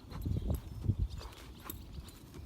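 Hooves of a horse being trained clip-clop in a slow, uneven walking rhythm, close and moderately loud, with a few distinct footfalls.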